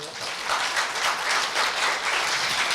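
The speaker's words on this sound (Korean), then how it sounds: "다시 한번 저희 이민수 교수님께 큰 박수 부탁드립니다" Audience at a university health forum applauds a professor, a loud, dense, continuous burst of many hands clapping that holds steady throughout.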